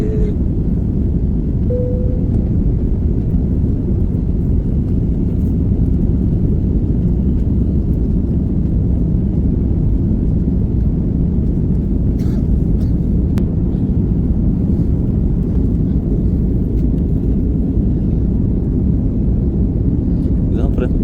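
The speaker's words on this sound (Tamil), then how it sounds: "ஃப்ளைட்டை தூக்கியாச்சு டேக் ஆஃப் ஆயிடுச்சு" Steady low engine roar inside an airliner cabin as it climbs just after takeoff, continuous and loud throughout with a brief faint tone early on.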